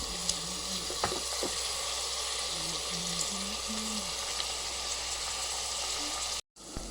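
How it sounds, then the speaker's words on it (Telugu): Onions frying in oil in a pan for mutton curry, a soft, steady sizzle at moderate distance with a faint tonal hum underneath and a brief cut near the end. "వేసుకున్నాక ఉల్లిపాయలు మగ్గేదాకా మనం వేపుకోవాలి"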